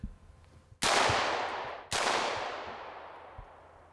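Two single gunshots from a rifle at a firing range, a second apart, each a loud sharp crack with a long ringing decay, alone without talk.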